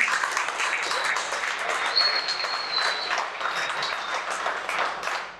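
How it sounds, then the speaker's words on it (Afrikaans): Crowd applause at an off-road racing year-end function and prize-giving in Perdehoek, greeting a class B first-place winner; dense, steady clapping from many hands sustained throughout, fairly close, with faint voices underneath. "Klap maar vir hom."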